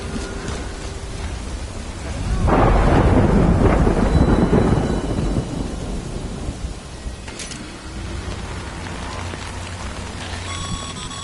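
Heavy rain pours steadily in a Death Stranding thunderstorm, and a loud rolling thunder rumble swells a few seconds in, then fades back into the constant downpour.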